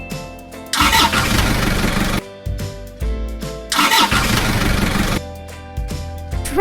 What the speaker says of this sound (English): Tractor.